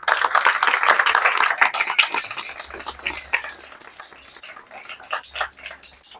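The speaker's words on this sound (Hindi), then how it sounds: "आप तालियां बजाएं" A speech audience's applause, dense and continuous, growing into crisp rapid clapping that stays loud throughout.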